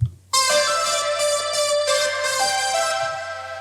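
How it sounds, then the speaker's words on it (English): A bright, buzzy lead made of three stacked stock Logic synthesizer lead sounds plays a sustained melodic line with a few note changes, loud and close, alone without talking. "Each of the sounds I used in this stack are found under the synthesizer lead category in Logic."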